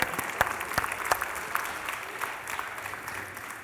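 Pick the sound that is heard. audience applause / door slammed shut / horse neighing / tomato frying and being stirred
audience applause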